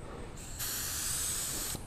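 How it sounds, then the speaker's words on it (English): An air compressor runs under a spray gun laying down a spray pattern, a steady loud hiss that starts at about half a second and holds until shortly before the end, with a quieter background hiss before it begins. "You'll probably hear the air compressor"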